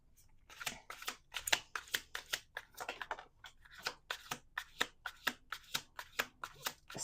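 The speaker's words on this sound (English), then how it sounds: "but I'm going to do one more shuffle." Tarot cards are shuffled in quick bursts of riffling and flicking, a rapid irregular series of crisp papery snaps, close up with no talking.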